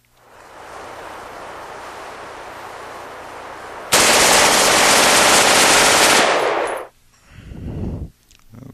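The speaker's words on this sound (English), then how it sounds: "at your command you may commence fire" Rifle fire on a live-fire range: a steady rapid burst of shots, then a sudden much louder sustained volley for a couple of seconds, ending with a brief rumbling tail, no voices.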